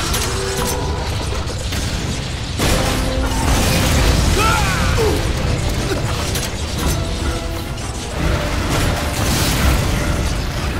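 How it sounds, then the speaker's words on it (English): Rocket launcher fire in the video game Lost Planet 2 during multiplayer, with dense, loud mechanical booms and crashes layered over continuous game noise for the whole stretch. "Getting some nice rocket shots on his face."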